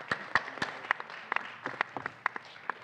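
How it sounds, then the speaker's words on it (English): Sparse applause from a small audience at a venture capital panel event, scattered individual claps heard faintly for a few seconds with no speech. "Applause."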